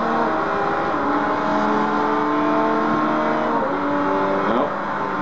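An LMP race car engine in Forza 3 at Le Mans drones loudly and steadily up close, holding a sustained high-revving note with a brief pitch dip near the end.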